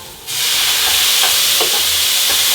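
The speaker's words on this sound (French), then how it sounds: "C'est flambé, super nickel." Duck breast pan sauce with shallots and cracked pepper flambéed with Armagnac: after a quiet start, a sudden steady roar of hissing sizzle swells up and holds loud and continuous, with faint clinks of stirring underneath.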